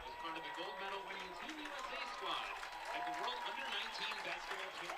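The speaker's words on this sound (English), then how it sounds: "they're giving Allie Zabel a nice round of applause" A crowd at a high school football game between Neenah and De Pere applauds a standout player, a sustained wash of distant clapping and cheering that stays steady throughout while commentators talk over it.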